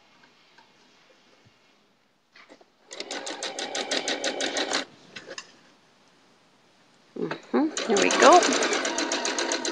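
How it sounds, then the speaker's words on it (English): A sewing machine stitches log cabin quilt seams in two rapid bursts of running needle clatter, separated by a pause, with a voice speaking briefly between them. "And I'm sewing with my seams up so that I can keep an eye on those little guys"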